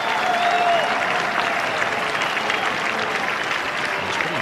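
A cricket crowd applauds Sachin Tendulkar's batting: sustained, broad applause and crowd noise from a large stadium, steady throughout, with a commentator's voice running over it.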